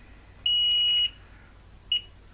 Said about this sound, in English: That's an alarm that's telling me that I've gone too far and I should consider reducing the sensitivity